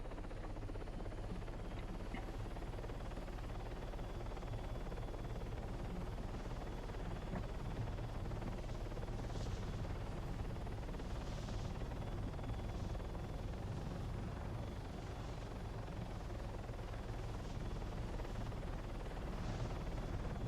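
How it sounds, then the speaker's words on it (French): Video game helicopter in flight, a steady continuous rotor and engine drone that holds at an even level for about twenty seconds, with faint scattered game sounds on top. "Allez, plus vite l'hélico, s'il te plaît."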